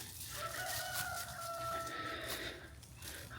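Three chickens forage in the woods, giving low clucks and a drawn-out crowing call over rustling ground noise, moderately close.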